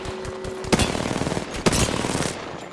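Video game gunfire plays as a steady stream of shots, with two sharp, louder bursts standing out over the constant combat noise.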